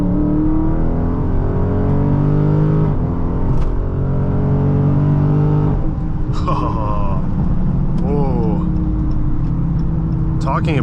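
A 2022 Dodge Charger Scat Pack 392 accelerating hard from inside the cabin: a loud, deep engine roar climbing through the gears with a shift break, rising again, while people talk over it.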